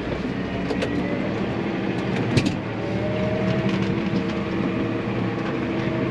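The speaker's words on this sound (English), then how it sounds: "I press that, revs the tractor up" A tractor engine revs and holds a steady, loud rumbling drone while pulling a cultivator set in float, with faint clanks and rattles riding over the continuous mechanical noise.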